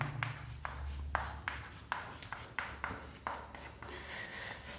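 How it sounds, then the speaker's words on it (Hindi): Chalk or marker strokes on a board during a chemistry lecture, a steady series of short scratchy strokes with brief gaps, close and fairly quiet over a low room hum. "मैं लिखना चाहूँगा"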